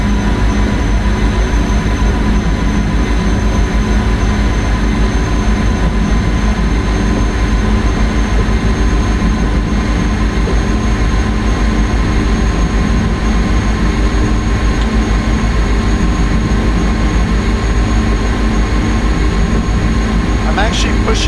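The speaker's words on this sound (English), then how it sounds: "I'm actually pushing the train fast again" PRR V2 Santa Fe Express train running fast, a steady loud mechanical rumble and hum that stays even throughout with no break, joined by a brief squeal near the end.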